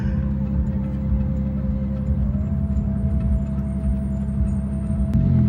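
A Porsche 911 fitted with a cheap aftermarket Alibaba exhaust, a steady deep engine drone at idle or low cruise with a faint rising whine partway through and a brief click near the end, heard alone.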